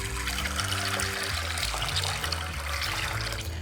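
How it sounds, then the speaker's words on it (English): Cold water pours and splashes steadily over dried beans in a container for a few seconds, close by, with no talking. "you just want to submerge them in water"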